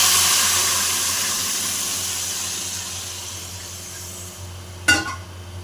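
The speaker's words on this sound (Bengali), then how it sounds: "এবার আগে থেকে ফুটিয়ে গরম জল রাখা জলটা দিয়ে দেবো" Pre-boiled hot water is poured into a cooking pot for a fish-head muri ghonto, giving a rushing pour and hiss that fades gradually and ends in a single sharp clank near the end.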